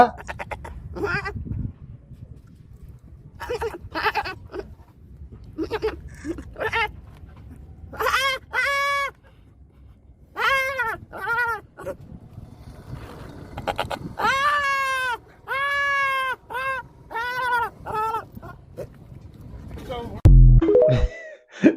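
A man imitates a goat with repeated loud, wavering bleats in several bursts, separated by short gaps and mixed with background noise.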